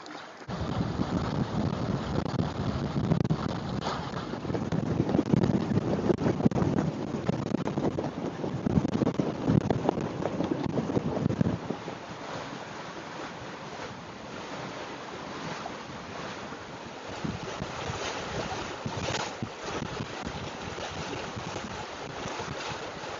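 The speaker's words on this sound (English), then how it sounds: "Still quite gusty, as is usual in the sou'wester." Gusty sou'wester wind buffets a sailboat at anchor near the Chicken Islands, a loud rushing roar for the first half that drops to a lighter, steadier blow with water sounds.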